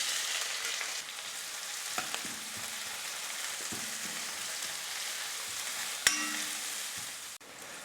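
Chopped onions and curry leaves frying in hot oil for an avarakkai kulambu, a continuous even crackling sizzle with a few soft clanks of a utensil against the pan and one sharp knock.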